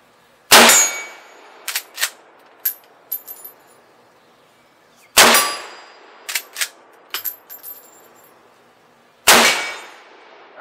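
30-30 rifle rounds striking steel targets at 55 yards: three loud, sharp metallic impacts spaced a few seconds apart, each followed by a ringing clang and a short run of fainter pings as the steel settles.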